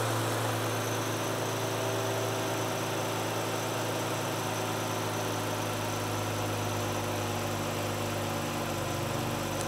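A car engine idles steadily after a fresh oil and filter change, a constant low hum with even vibration running alone throughout.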